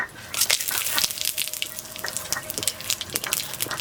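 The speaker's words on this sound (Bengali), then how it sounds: "গোটা জিরে আর তেজপাতা ফোড়নে দিয়ে দিচ্ছি" Whole cumin and bay leaves sizzling in hot oil as a tempering for a picnic meal, a steady close hiss and crackle with brief louder spits throughout.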